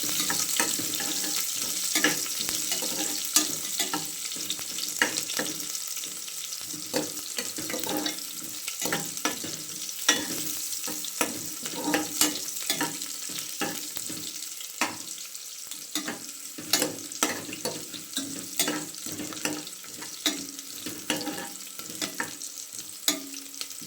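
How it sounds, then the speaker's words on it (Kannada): Chopped onions fry in a tempering of oil on a low flame for an avarekalu tomato rice dish, a soft, even hiss peppered with scattered pops and occasional spatula scrapes, steady and close for over twenty seconds without speech. "ಈರುಳ್ಳಿ ಚೆನ್ನಾಗಿ ಫ್ರೈ ಆಗಬೇಕು."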